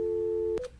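A disconnected phone line gives a steady electronic telephone tone, loud and close, which ends abruptly with a short click.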